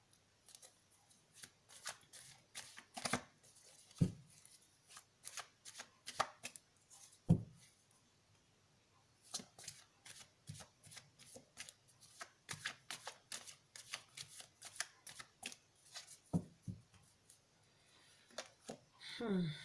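Tarot cards being shuffled by hand in repeated crisp riffling bursts with short pauses between, close and fairly quiet.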